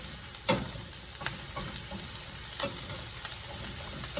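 Onions frying in a skillet with pork, a soft continuous sizzle with a few stirring scrapes and clicks of a utensil against the pan, close and alone.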